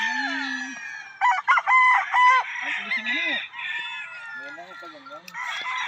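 Hens and roosters at a gamefowl farm, several loud close crows overlapping with clucks and squawks from the flock, the birds calling one after another without pause.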